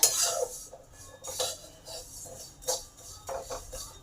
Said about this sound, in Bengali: চিড়েটাকে কন্টিনিউ নেড়ে যেতে হবে নাহলে তলারগুলো চুয়ে যেতে পারে